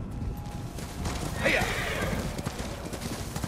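A horse in the video game Ghost of Tsushima gives a ringing neigh over a steady patter of hoofbeats, heard close and continuous through the short moment.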